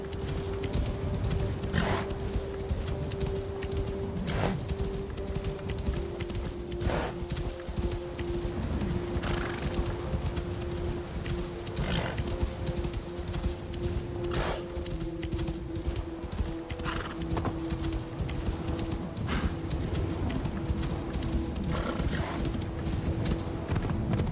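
Steady hoof clip-clop of a horse in a winter-themed open-world game, with a sustained tonal music or ambient drone running throughout and occasional soft whinnies; no talking.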